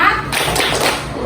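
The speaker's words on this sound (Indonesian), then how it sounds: "Coba tepuk semangat." A class of fifth-grade pupils in an Islamic studies lesson breaks into a quick burst of 'tepuk semangat' clapping, dense overlapping hand claps lasting about a second, loud and close.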